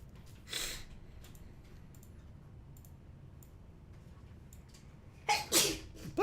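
A person sneezes, first a single sharp burst, then a louder double sneeze a few seconds later, against a quiet room background.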